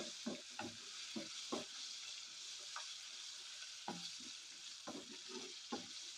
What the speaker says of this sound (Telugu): ఈ జీడిపప్పు కొంచెం ఫ్రై అయిన తర్వాత